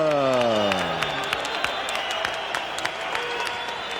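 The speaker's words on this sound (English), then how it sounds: "A round of applause, please, for this great performance tonight by Carl the Truth Williams." A crowd at a televised heavyweight boxing match applauds and cheers after a TKO finish, a broad roar of clapping and whoops under a fading bell-like ring, with an announcer's voice faintly mixed in.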